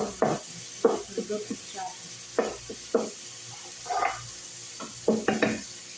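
Tomatoes stirred and fried in a pan, giving short scraping stir strokes with a light sizzle underneath, repeated in irregular bursts at moderate loudness with faint voices now and then.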